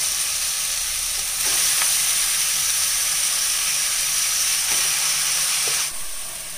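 Tomatoes fry in a pan with ginger and garlic for tomato rice, giving a loud, steady sizzling hiss close up that swells slightly as they settle, with no voices.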